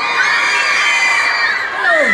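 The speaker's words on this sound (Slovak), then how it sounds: "Veľký potlesk pre Vydrel" Crowd at a live stage event cheering, whooping and shouting loudly and steadily after a performer is introduced, with high children's voices in the mix and no clear clapping.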